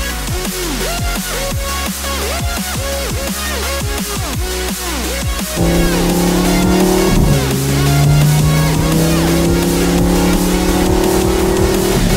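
A twin-turbo Lamborghini engine idles with a choppy, pulsing burble, then steps up into a louder, steady deep rumble with sustained tones, close and continuous without talk.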